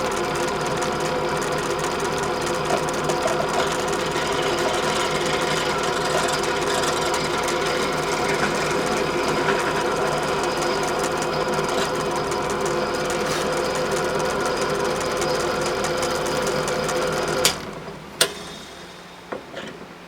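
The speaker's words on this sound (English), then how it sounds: "Just for a little bit till I countersink it." A drill countersinks a hole, its motor running loud and steady for about seventeen seconds before stopping, followed by a few sharp clunks.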